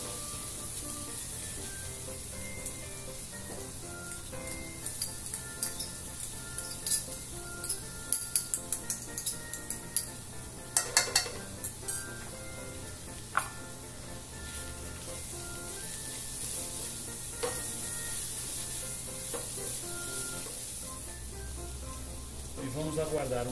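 Garlic sizzling in hot oil in a pan, a constant hiss throughout with scattered stirring clicks and scrapes, the frying noise carrying on steadily and alone.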